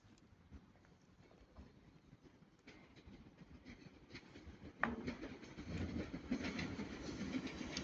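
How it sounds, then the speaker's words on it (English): Late-running Northern Class 323 electric train passing from Blackpool North toward Manchester Airport, a steady rumbling roll that swells suddenly loud partway through and stays close with wheel clatter. "now passing by, there's going to be the late running Northern Class 323 going from Blackpool North to Manchester"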